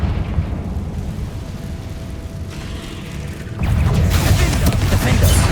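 A Confringo spell detonates in Hogwarts Legacy as a sudden, loud, broad burst that cuts in over steady ambient rumble and holds as a dense, roaring blast to the end.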